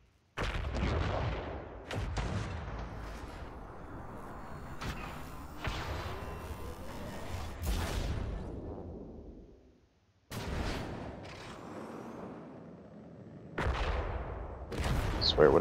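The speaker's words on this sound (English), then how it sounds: "They're laser attacks." Laser attacks in the video game Worbital firing as a series of sharp, loud blasts with booming tails, spaced irregularly with brief quiet gaps, one near the end especially forceful.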